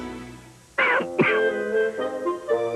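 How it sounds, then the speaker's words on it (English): A couple of harsh, throaty coughs close to the microphone, followed by lower rasping sounds as the throat clears. "Since a cough can be extra annoying at night"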